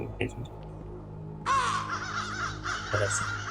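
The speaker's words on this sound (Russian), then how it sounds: "Птички." A flock of crows in the video game The Beast Inside breaks into dense, raucous cawing partway through, loud and continuous after a quieter start, with someone talking.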